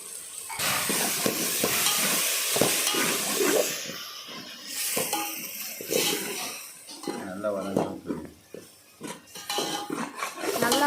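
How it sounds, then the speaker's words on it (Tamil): Chicken biryani masala with about fifty millilitres of yogurt sautéed and stirred in a pan, with steady clinks and scrapes of a spoon against the metal over a soft frying hiss while someone talks throughout. "வதங்கட்டும் ஒரு கிரேவி மாதிரி ஒரு கன்சிஸ்டன்சி வர வரைக்கும் நல்லா வதக்கி"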